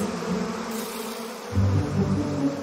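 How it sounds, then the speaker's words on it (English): Honeybees buzz in a cartoon scene, a soft steady drone that grows louder and brighter partway through, alone with no voices. "Oh, aren't those honeybees?"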